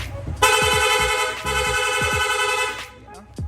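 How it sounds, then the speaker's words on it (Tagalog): A loud, sustained motorcycle horn on a Yamaha Sniper 155, triggered through a Yamaha two-way alarm, blares for a couple of seconds in rapid honking, briefly breaking mid-way, with a few short beeps around it. "Long press lang po natin yung horn switch, yung busina natin. Magsusunod-sunod na po yan."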